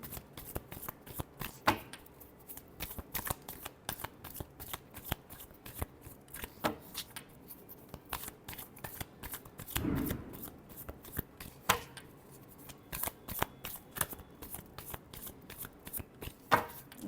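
Tarot cards are shuffled by hand, a long run of quick crisp riffles and taps in an uneven steady rhythm, close and fairly quiet, with a brief soft rustle midway.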